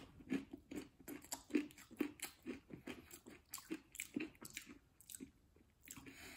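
Close, crisp crunching and chewing of Snaqs vegetable chips, green bean and seaweed varieties, in a steady rhythm of bites and chews with no talking.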